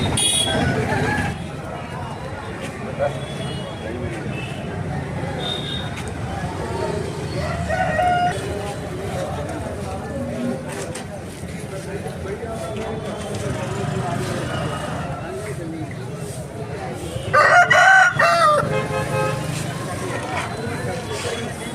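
Rooster crows ring out amid a busy murmur of people talking at a native chicken market in Eluru, with a loud, sharp crow near the end standing above the chatter.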